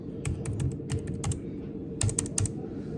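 Numbers keyed in on a computer keyboard at a gold trading counter, in quick bursts of crisp clicks separated by short pauses over a low room hum.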